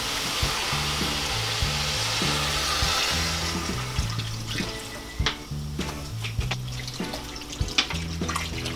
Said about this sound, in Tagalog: Ngayon po, lalagyan na po natin siya ng tubig.